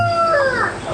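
A rooster, one of a flock raised on medicinal herbs from Jirisan mountain, gives a loud, close crow. It is a brief, clear, harmonic call that rises and then falls, with no talking.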